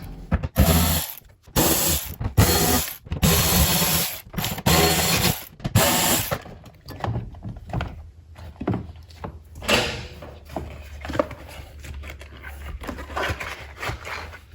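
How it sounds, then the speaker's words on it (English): Ratchet backing out 8mm bolts that hold down a plastic interior panel in a 2007 Dodge Ram Cummins with a G56 six-speed, with bursts of rapid clicking ratcheting followed by quieter rattles and handling noises, close up and with no talking. "there's more 8mm bolts holding this plastic piece down"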